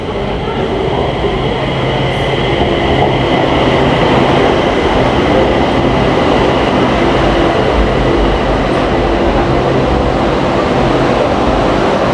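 An electric metro train rumbling steadily and loudly as it pulls in, with a constant roar of wheels and motor throughout.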